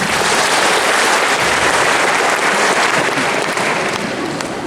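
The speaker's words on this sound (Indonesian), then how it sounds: "Mari kita tepuk tangan untuk mereka semua." Loud, steady applause from a gathered audience at a regional organisation's inauguration ceremony in Raja Ampat, dense and continuous across the whole stretch.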